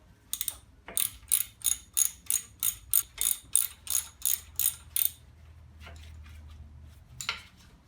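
A ratchet spanner clicks in a rapid, evenly spaced run of about fourteen sharp close clicks while undoing nuts and bolts on a Howard Gem rotavator, then goes quiet before one last click.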